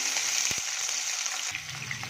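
Soft, steady sizzling of green chilies frying with cumin in a pan, with a couple of brief clicks early on and the hiss easing slightly toward the end.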